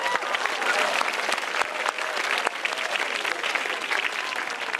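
An audience at a stand-up comedy show applauds in a steady, dense burst of clapping with some crowd voices underneath, continuing evenly throughout.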